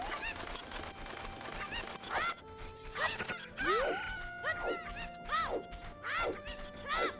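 Chicken in the Zelda: Ocarina of Time video game, repeated loud squawks and honking clucks over game music and sound effects, with no talk.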